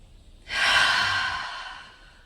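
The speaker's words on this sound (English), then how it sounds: "2 more breaths through the nose." A single long breath through the nose during guided meditation, a soft airy exhale that starts suddenly and slowly fades out, close to the microphone, with no talk.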